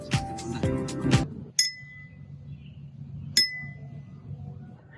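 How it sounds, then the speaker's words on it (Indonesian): A metal spoon strikes a glass holding water in a physics experiment. A brief clatter comes first, then two clear, ringing clinks a couple of seconds apart, each with a bright tone that fades slowly against a low background hum. "gelas yang berisi air dan dipukul sendok logam"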